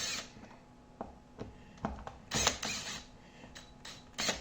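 A 2.5 mm key turning screws on an Ibanez Edge III electric guitar tremolo, a series of small metallic clicks and creaking scrapes at close range, irregularly spaced with no voices.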